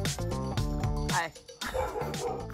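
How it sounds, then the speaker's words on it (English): Excited dogs bark, yip and whimper in quick overlapping bursts close by, loud and continuous with a brief pause partway through. "The dogs are freaking out."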